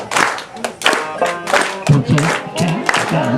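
An audience clapping along on the off beat at a live folk festival performance, rhythmic claps under a singing voice and music.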